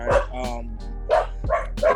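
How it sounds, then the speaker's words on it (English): Several dogs bark in short bursts of loud, close woofs and yips, with brief gaps between barks. "right now, these dogs are just barking."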